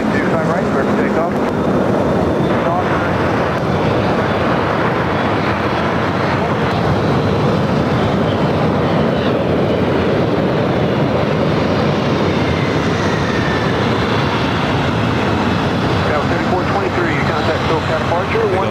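An American Airlines airliner takes off from runway 25 right at LAX at night, its engines a loud, steady roar that holds for the whole stretch with wind buffeting the microphone.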